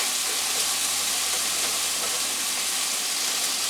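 Onions hitting a hot pan while cooking steak, giving a steady, dense broadband sizzle that holds evenly throughout, close and fairly loud with no talking.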